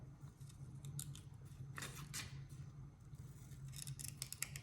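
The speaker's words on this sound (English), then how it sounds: "Cut some of this paper off." Scissors snipping through paper in a series of crisp, close cuts, some in quick clusters and others spaced apart, over a low steady background hum.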